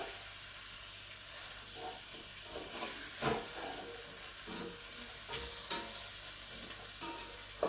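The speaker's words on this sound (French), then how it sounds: "faire un peu griller la farine là" Flour toasting in a pan for a blanquette de veau, a continuous soft sizzle and hiss with intermittent stirring scrapes, close and fairly quiet with no talking.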